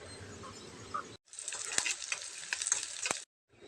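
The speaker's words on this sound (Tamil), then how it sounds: "அடுத்ததாக இதில் ஒரு 10லேருந்து 15 பல் பூண்டு தோல் நீக்கிட்டு அதையும் இதோடு சேர்த்து வதக்கிக்கலாம்." About ten to fifteen peeled garlic cloves, with ginger and onions, sauté in hot oil for a cauliflower gravy. A steady close sizzle is broken by stirring scrapes, with two short pauses.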